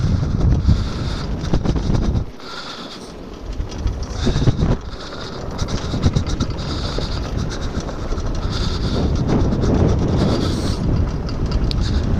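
Kite buggy, a land yacht pulled by a kite, rolling and speeding up on open ground in strong wind, with heavy wind buffeting the microphone and a constant rumble of wheels throughout.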